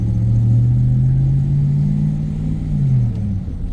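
A 2006 Chevrolet pulls away in a parking lot in drive, its engine giving a loud, steady low hum that climbs slightly and then eases as the transmission shifts from first into second, with no talking.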